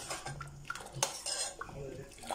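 Lemon juice being stirred into sugar syrup for jalebi, with a spoon clinking and scraping against the pot in quick, close strokes over a light liquid swish.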